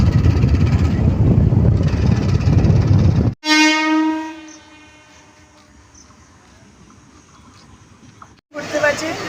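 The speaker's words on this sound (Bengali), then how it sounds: "এখন ট্রেনটা পাস করে দাঁড়িয়েছে" A train rumbles loudly past a station, then sounds a long, drawn-out horn blast that holds for several seconds before the rumble returns.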